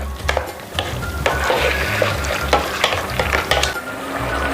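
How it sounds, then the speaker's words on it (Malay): Steady sizzling and bubbling from a pan as meat simmering in Prego mushroom sauce for shepherd's pie is stirred, with occasional scrapes and clinks of a utensil against the pot. "kita kacau rata daging tadi dengan sos cendawan prego tadi tu. Bagi dia mendidih seketika"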